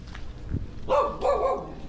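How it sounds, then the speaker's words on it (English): A dog barks twice in quick succession, fairly close and loud, after a soft thump, on a backstreet in Tarlac City, Philippines. "A lot of dogs out here."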